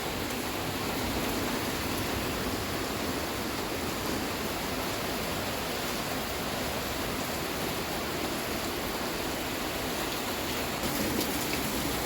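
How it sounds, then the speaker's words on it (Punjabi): Heavy rain pours down steadily outside a balcony, a dense, even hiss of water that holds at the same loud level throughout, with no voices. "ਮੀਂਹ ਬੜਾ ਪੈ ਰਿਹਾ ਹੈ ਦੇਖੋ"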